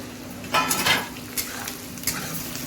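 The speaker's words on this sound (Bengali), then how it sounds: "এই পেঁয়াজ ভাজার মধ্যে এখন আমি টমেটোগুলো দিয়ে দিব" Tomatoes tipped into onions frying in a pan for chicken kosha, giving a brief burst of sizzling with scraping spoon and utensil clinks, close and moderately loud.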